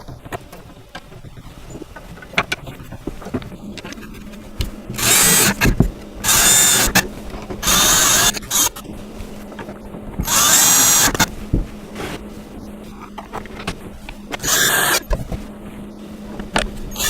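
A power drill drives bolts into the frame of a Badger Basket diaper-corner changing table in several loud, separate whirring bursts, each a second or less long. Quieter handling noise fills the gaps between them.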